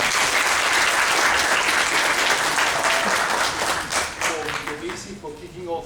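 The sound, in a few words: audience applause at seminar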